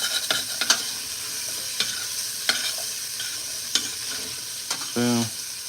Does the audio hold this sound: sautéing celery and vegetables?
yes